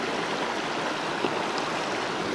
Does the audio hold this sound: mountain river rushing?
yes